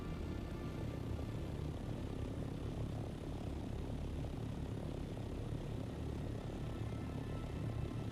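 An insectoid helicopter flying in a video game, a continuous low rotor-and-engine drone that holds steady and close without speech.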